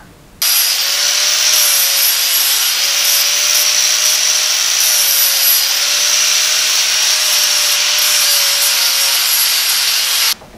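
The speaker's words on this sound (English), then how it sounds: "round the corners on the rest of this and grind it up" Steel plate for a hot rod frame being ground with a power grinder, a loud steady high-pitched whine and rasp that runs almost without a break from start to finish, close up and alone.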